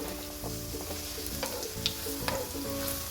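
Panikoorka (Indian borage) leaf bajji frying steadily in hot oil, a dense continuous sizzle with a few brief spatters and utensil taps close by.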